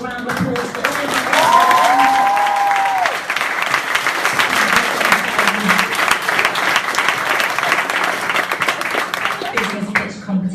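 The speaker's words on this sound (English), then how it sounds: "So just one more round of applause for all of you." Sustained round of applause at a graduation ceremony, many hands clapping in a dense steady wash from a gathered crowd, with a voice speaking over it at the start before the clapping carries on alone.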